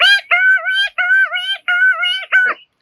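A man imitates a parrot call with his voice. Five quick, loud, nasal squawking notes come in a rapid series at close range, the last one clipped short, with silence behind.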